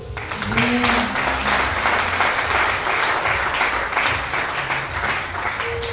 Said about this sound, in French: Je veux qu'on acclame Dieu